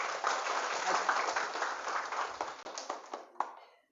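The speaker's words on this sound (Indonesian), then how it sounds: "Oke, tepuk tangan untuk kita semuanya hari ini." An audience applauds at a motivational event on a Jakarta polytechnic campus, a dense wash of clapping that holds steady for a few seconds and then thins and fades out.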